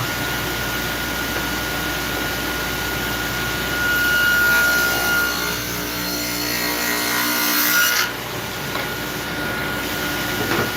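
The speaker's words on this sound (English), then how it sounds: "We're gonna have to cut 2 passes to get our 1/4 inch panel in there." A power tool runs steadily while cutting a groove in wood for a 1/4 inch panel of a tea tray, a loud continuous whine and hum throughout with a slight change in tone partway through.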